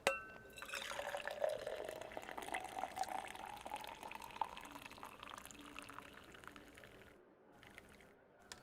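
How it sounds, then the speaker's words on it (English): Hot coffee poured into a cup, a steady liquid stream with a rising, filling tone for several seconds before it stops, close and fairly quiet with no talking. "Oh, I guess I can pour my coffee now."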